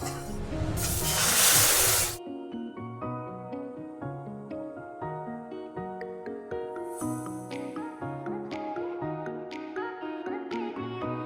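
Moong dal tipped into a pan of fried cumin and spices gives a loud two-second hissing sizzle, then gentle background music plays on its own.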